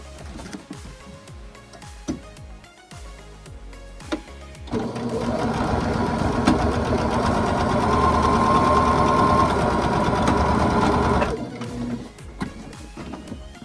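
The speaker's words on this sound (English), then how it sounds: "Okay, let's sew it." A domestic sewing machine stitches quilt backing in a foundation paper piecing project, running in one continuous loud whirring burst for several seconds before stopping, with quiet handling noises around it.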